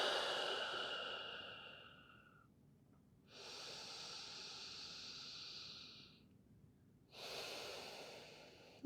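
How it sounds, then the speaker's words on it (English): Slow, deep breathing during a morning yoga stretch: a long airy exhale, a pause, then two more drawn-out breaths, close and soft with quiet gaps between. "take nice big inhales. Nice deep exhales."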